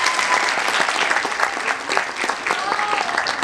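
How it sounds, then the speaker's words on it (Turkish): Classroom applause for a seventh-grade student after an improvised theatre performance, a dense burst of clapping from a group of pupils that holds steady and close throughout. "Arkadaşımızı bir alkışlayın bakalım."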